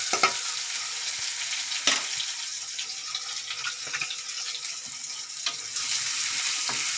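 Garlic, ginger and green chillies sautéing in a pan: a steady close sizzle broken by a few sharp scrapes and knocks of a spatula, with no speech.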